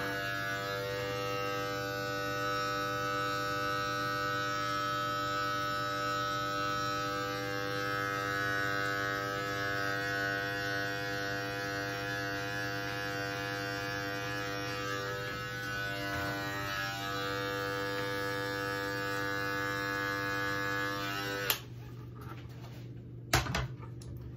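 Electric hair clippers run in a steady, close, loud buzz while fading hair in a self-haircut, holding an even drone for about twenty seconds before cutting off with a few brief clicks and handling knocks.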